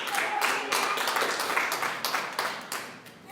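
Worshippers in a church hall clap in a loose, steady rhythm, a crowd of hands beating together at moderate loudness, slightly fading toward the end, with no voices on top.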